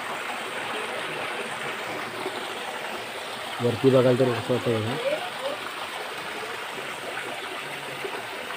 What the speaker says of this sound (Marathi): असं शांत असं वाहतं जुळजुळ वाहणारं पाणी, त्या पाण्याचा आवाज